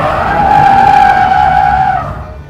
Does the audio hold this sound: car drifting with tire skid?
yes